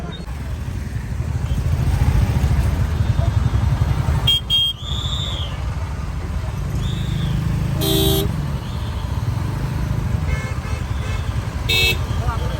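Road traffic stuck in a jam at the Palashbari Rakh Mahotsav festival in 2022, with car and motorcycle engines idling steadily close by, a few short horn toots and whistles cutting through, and people talking over it.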